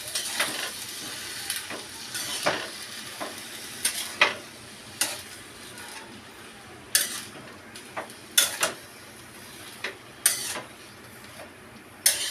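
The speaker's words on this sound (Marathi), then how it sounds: "आता मिक्स करून घेऊया।" Valachi bhaji vegetables stirred in a pan with a spoon, sharp intermittent scrapes and clinks against the metal over a faint sizzle, irregularly spaced and fairly close.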